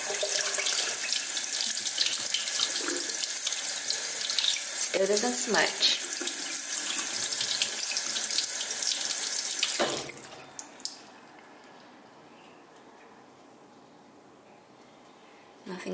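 A water tap runs loudly and steadily for about ten seconds during a liquid lipstick smudge test, then shuts off, leaving a quiet room with a few soft knocks and a brief spoken word.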